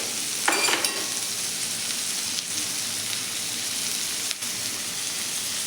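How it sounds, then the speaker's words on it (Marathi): Onion and tomato with salt sauté in a pan for a dry soybean dish, giving a steady dense sizzle like rain on a surface, with an occasional scrape of stirring and no speech. "आपल्याला कांदा टॅमॅटो छान असं 2 ते 3 मिनिट परतून घ्यायचं आहे"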